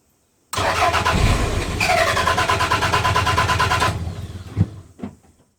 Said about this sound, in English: Let's give the engine a crank